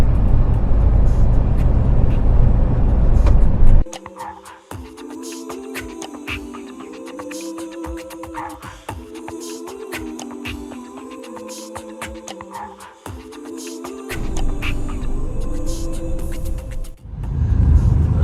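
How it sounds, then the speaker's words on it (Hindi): Road traffic heard from inside a truck stuck in slow traffic between Bahrain and Saudi Arabia: a low engine rumble, rattles and clicks, and a stretch of a rhythmic repeating tone in the middle, with no voices. "ये हम थोड़ा ट्रैफिक में फंसे हुए हैं"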